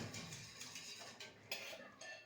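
A spoon scrapes and clinks against a pot while a mixture of milk, cornstarch and sugar is stirred on the stove, a soft, irregular run of metallic scrapes, faint and close.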